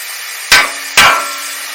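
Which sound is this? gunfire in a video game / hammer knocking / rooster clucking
hammer knocking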